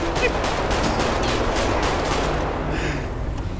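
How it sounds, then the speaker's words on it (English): Police roleplay game with dense, continuous gunfire, rapid overlapping shots forming a loud, steady fusillade throughout, with voices faintly mixed underneath. "You can't just shoot the man like that."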